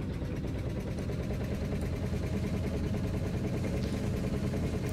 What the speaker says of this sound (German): Motor an.